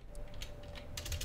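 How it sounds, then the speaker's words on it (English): A few soft, close keystrokes on a computer keyboard, faint taps clustered together in a brief quiet moment. "from here, you can type"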